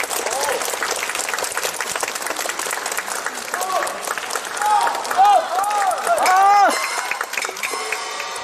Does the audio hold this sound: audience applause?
yes